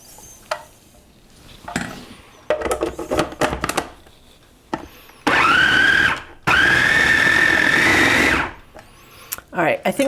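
Food processor whirring through oat flour cookie dough for vegan peanut butter chickpea cookies, two sustained loud bursts of a few seconds each, with clattering and handling noises between them and some talk nearby.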